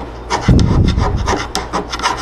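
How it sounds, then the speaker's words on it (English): Wooden edges scraped by hand to rough the material down, a loud close rasping rub in short repeated strokes with gritty texture and no talking. "So what I want to do is I want to give them a couple good scrapes,"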